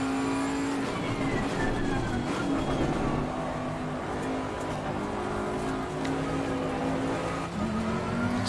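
GT race cars run in the Assetto Corsa Competizione racing simulator, with a continuous loud engine drone, shifting revs and the whine of several cars nearby for the whole stretch, and no talking.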